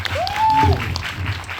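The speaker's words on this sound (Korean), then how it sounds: "박수 부탁드립니다." A short burst of audience applause at a book talk for a film director's screenplay collection, even and close, with a brief whistle-like tone rising over it before it fades.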